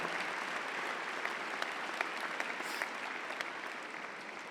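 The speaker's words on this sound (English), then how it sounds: "One more round of applause for our region champs in swimming" School assembly crowd applauding region swimming champions, a broad, even roar of many hands clapping, somewhat distant and soft, with occasional sharper individual claps standing out.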